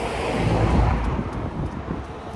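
Waves wash against a sea wall at high tide in a steady rushing roar, with gusts of wind buffeting the microphone up close.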